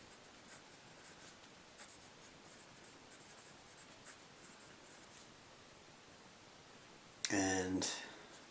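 Formulas being written out by hand, faint scratchy pen strokes in short bursts across the clip, ending with a brief louder rustle or handling noise near the close.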